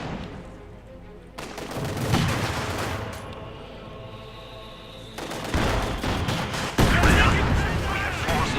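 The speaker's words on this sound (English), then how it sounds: "Heavy mortar rounds flying all across the battlefield." Heavy mortar rounds and gunfire fill a Company of Heroes 2 battle, with dense overlapping shots and booming impacts, sustained and loud, under an energetic commentator's voice.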